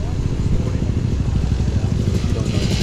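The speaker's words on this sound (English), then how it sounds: "We got a couple bikes rolling in." Dirt bikes roll into a cars-and-coffee car show, their engines making a continuous low rumbling drone that stays close and steady throughout, with a voice partly audible over it.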